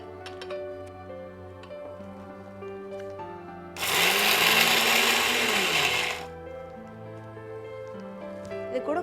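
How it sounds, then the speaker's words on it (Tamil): A kitchen mixer grinder whirs loudly for about two seconds as it grinds fennel, ginger, dried chilli and coconut, its motor pitch dropping as it winds down, with a quieter steady background hum around it. "இப்போ நம்ம வந்து இந்த சோம்பு, இஞ்சி, காஞ்ச மிளகா சேர்த்து அரைச்சிருக்கோம்."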